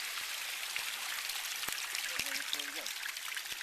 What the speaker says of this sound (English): coming out of the side of the hill is this beautiful babbling stream